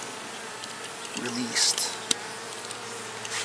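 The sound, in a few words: honeybees buzzing around queen cells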